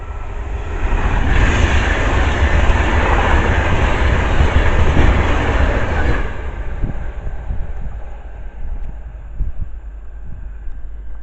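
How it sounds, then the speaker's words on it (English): A Pendolino passenger train roars past close by at North Wembley station, a loud steady rush of wheels and wind that fades gradually as it moves away. "And then the next train passed by is a Pendo."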